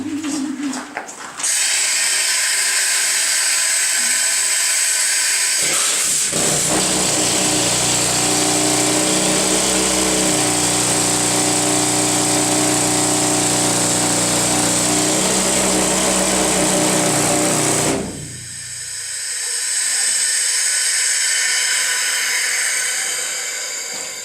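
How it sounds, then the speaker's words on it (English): A loud pneumatic rock drill in a silver mine roars continuously for several seconds close by, then cuts off, leaving a softer hiss and background rumble. "I'm gonna start this thing up, it's pretty loud in my hand"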